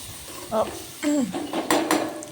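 Fennel seeds lightly fried and stirred in a pan, heard as several metallic clinks and scrapes of a spoon against the pan over a faint sizzle, with a hint of voice in the background.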